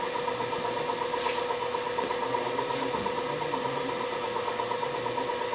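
A Semitool 270-F spin rinse dryer spinning during a rebuild, giving a steady, loud mechanical hum and whir with a constant rotating drone and no changes in pace, heard alone without voices.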